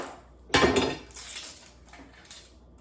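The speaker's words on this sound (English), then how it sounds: "We're gonna chop up 2 onions." Knife chopping onions on a cutting board, one sharp loud thud followed by several lighter knocks and scrapes close by, with no voices.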